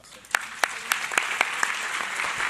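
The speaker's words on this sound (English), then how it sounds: "Big round of applause for all of our panelists, for Maria, Sid, Nina, Evelyn, Michelle, Est" Audience applause for a panel of speakers at a Hispanic leadership summit, a scattered burst of claps rising into a steady, moderately loud patter that continues to the end.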